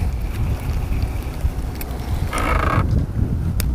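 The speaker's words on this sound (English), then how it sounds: "The wind's a lot better than I thought it was going to be." Wind blowing down a lake during a December fishing outing, a steady broadband rush with microphone buffeting and a brief louder gust, no talking.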